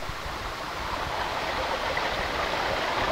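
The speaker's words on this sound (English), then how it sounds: "The meltwater collects on the surface of the glacier and forms streams, rivers, and even lakes." Meltwater streams running across the surface of a glacier give a steady, full rushing wash of flowing water, loud and unbroken throughout, with no voices.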